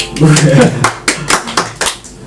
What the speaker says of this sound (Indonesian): Kita tepuk tangan dengan dikit